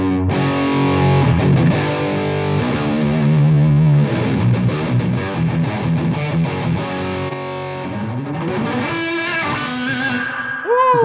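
Distorted electric guitar playing a riff, drenched in long delay and reverb that leave a swampy, trailing tail behind each phrase, loud and continuous with ringing echoes fading at the end.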